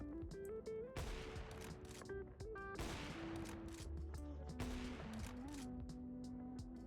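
AWP sniper rifle shots fire in Counter-Strike 2, a series of sharp cracks spaced across the clip. They are fairly faint and sit alongside sustained tonal notes.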